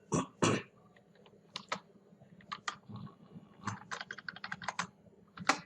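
Typing on a computer keyboard, with close, crisp keystrokes in quick irregular bursts and a few heavier key presses, plus a brief throat-clearing sound near the start.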